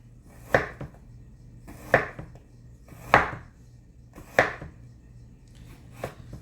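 A knife chops through beef for jerky in five sharp, evenly spaced strikes on a cutting board, each a crisp close thwack with a short tail, over a low steady hum.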